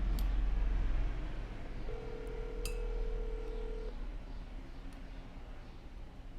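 A phone dialing an old number gives a few sharp touch-tone beeps and one long steady tone near the middle, over quiet room background with no speech.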